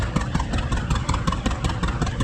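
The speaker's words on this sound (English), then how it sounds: "John Deere Model B coming through next" A John Deere Model B tractor chugs by in a parade, its engine popping out a loud, rhythmic, uneven putter close at hand.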